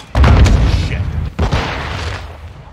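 Grenade blasts in the Modern Warfare 2 campaign: a loud booming burst near the start, a second heavy thud about a second later, then a rumbling tail of gunfire and battle noise.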